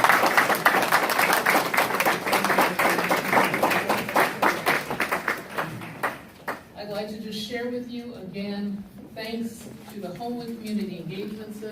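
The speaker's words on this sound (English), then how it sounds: "give a round of applause for each of the candidates" A forum audience breaks into applause for the candidates: dense, fairly loud clapping for about six seconds that thins out and fades as a speaker begins talking.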